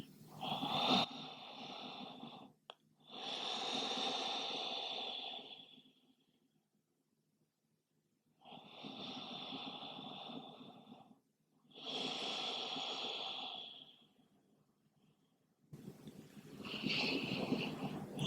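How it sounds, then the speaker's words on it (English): Slow, full breaths drawn and released during a yoga child's pose, a close, soft rushing of air in four long waves separated by quiet pauses. "taking a couple of nice full breaths here"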